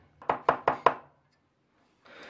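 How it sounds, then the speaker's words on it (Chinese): Four sharp, evenly spaced knife chops strike a wooden cutting board, close and loud, while ginger and garlic are minced, then a pause and a soft rustle at the end. "生姜还有大蒜剁成末"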